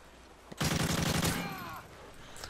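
An AK-47 rifle in the Call of Duty Modern Warfare 3 video game fires a single loud, rapid burst of automatic shots lasting under a second, followed by a fading echo and quiet.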